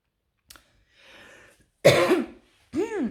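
A few sharp coughs break the quiet, one harsh burst followed by another after a short pause, close and loud, with a faint breath beforehand.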